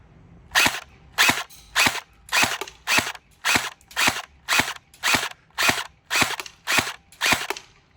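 A Cyma CM47T electric airsoft AK47 fires single shots at a bottle, thirteen sharp, evenly spaced cracks about every 0.6 seconds, loud and close with no talking.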